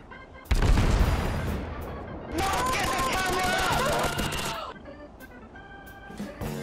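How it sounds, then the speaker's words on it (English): Heavy naval gunfire from the USS Indianapolis, an American heavy cruiser, in a naval combat video game: loud booming salvos that start abruptly and swell into a sustained roar of gunfire with battle noise, while a voice talks over it. "It fires the American piercing shells, which is big and heavy, just like Americans"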